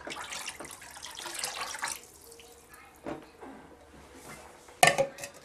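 Tap water runs into a sink while an apple cider vinegar rinse for dreadlocks is being prepared. The flow is steady and fairly close for about two seconds, followed by quieter drips and a sharp splash or clink near the end.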